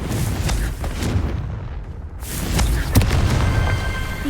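Confringo blasting spells detonate in Hogwarts Legacy, a dense run of booming bursts with a brief lull midway, then a sharp crack and continuing rumble.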